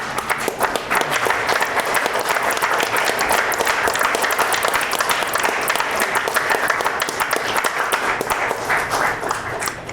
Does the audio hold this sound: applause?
yes